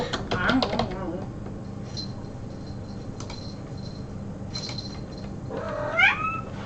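A house cat meows near the end of the stretch, a rising, drawn-out call close by, while a person talks through most of the scene.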